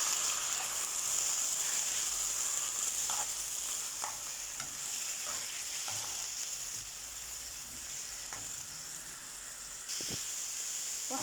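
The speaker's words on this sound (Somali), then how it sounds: "hadda waxaan ku darsanaynaa chicken" Chicken pieces frying with browned onions in a pan while being stirred, a continuous hissing sizzle with intermittent scraping and clinks of the utensil, fairly quiet and close.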